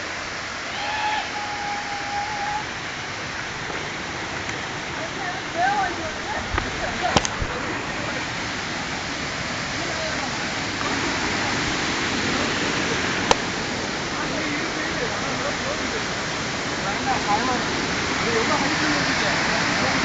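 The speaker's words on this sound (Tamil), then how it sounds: "அருவியை கண்டுபிடிச்சிட்டோம்." A waterfall roars close by in a constant, dense wash of noise that holds level throughout, with faint voices and a couple of small knocks barely surfacing above it.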